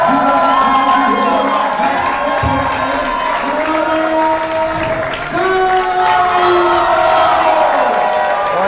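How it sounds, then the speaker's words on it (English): A large crowd cheers and shouts loudly at a USC versus UCLA boxing event, with sustained whoops and yells swelling and overlapping throughout. "He most definitely has a hometown crowd."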